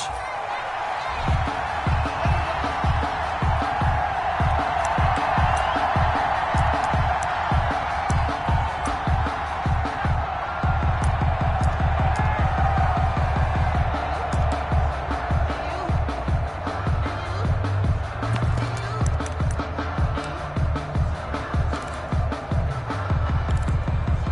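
A steady stadium crowd roars and cheers in a football video game matchup between the New York Jets and Tampa Bay Buccaneers, a continuous loud wash of noise with rhythmic low thumps running beneath it throughout.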